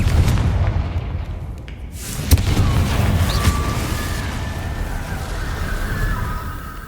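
Confringo blasting spells go off in the Hogwarts Legacy video game, producing a dense, loud low rumble of booms and bursts with one sharp impact early on.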